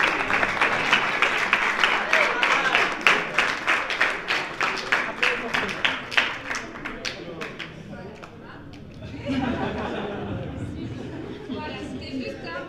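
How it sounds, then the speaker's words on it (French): An audience at a ceremony breaks into loud, dense applause for about eight seconds, the clapping thick and sustained before it thins into murmuring chatter and voices. "j'aimerais qu'on les applaudisse très très très fort pour leur travail"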